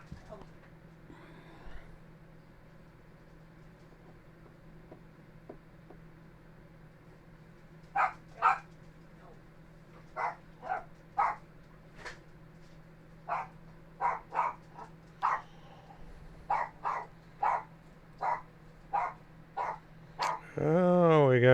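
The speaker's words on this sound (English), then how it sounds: "Oh, we got the case of the barking dog." Dogs barking in a string of sharp, separate barks from about eight seconds on, fairly close, over a steady low hum, with a louder whining yelp at the very end.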